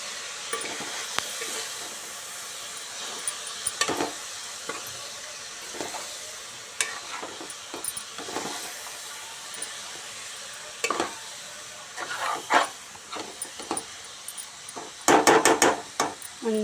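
Cabbage and soaked chana dal curry sizzling in a pan while being stirred, a steady fry hiss broken by scraping and clinking spoon strokes that grow busier toward the end.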